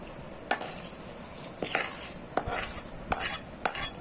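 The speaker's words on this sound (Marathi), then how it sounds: "आता ह्याच्यामध्ये आपण लसूण जो बाजूला तयार करून घेतलेला होता तो हे त्याच्यामध्ये आपण टाकणार आहे" Garlic stirred into hot spiced oil for a raw mango pickle, a spoon scraping and clinking against the pan in repeated strokes over a soft sizzle, close with no talking.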